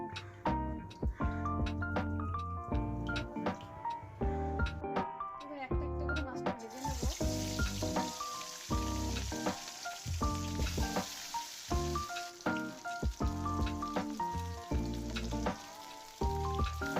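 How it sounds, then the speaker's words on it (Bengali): Rohu fish frying in hot oil, a steady sizzle under continuous background music, with a brighter hiss swelling in partway through and holding to the end. "তো মাছটা ভাজার জন্য তেল ঢেলে দেবো।"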